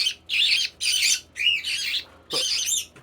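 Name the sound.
Quaker parrots squawking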